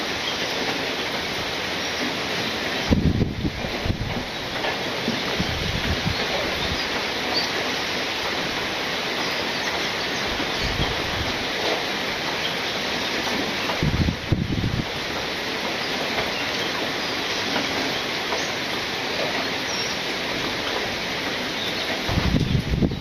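Steady rain falls on a village in a continuous dense hiss with a few louder gusting surges, no voices present.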